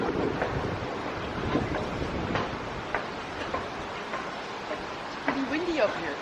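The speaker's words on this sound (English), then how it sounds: "It's pretty windy up here." Steady wind buffeting the microphone outdoors, a constant rushing roar with occasional gusts, and brief voices underneath.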